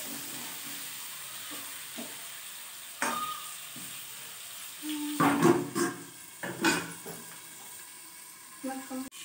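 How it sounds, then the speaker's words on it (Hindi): Cauliflower with turmeric and salt stirred and fried in a pan, with soft sizzling throughout and a few louder scraping stirs near the middle and end. "अब हम इसको अच्छे से भून लेंगे।"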